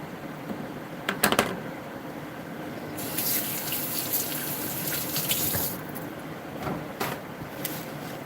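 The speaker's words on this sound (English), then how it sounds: "Let me wash my hands here real quick" A kitchen faucet runs steadily while hands are washed under it, a close, continuous rush of water with brief splashy surges and no talking.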